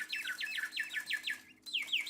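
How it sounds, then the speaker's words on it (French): An antique singing bird automaton, made in the late 18th to early 19th century, gives a run of bright, repeated warbling chirps in a quick regular rhythm. It pauses briefly, then starts another phrase, clear and alone at moderate volume. "Vous avez un oiseau chanteur là"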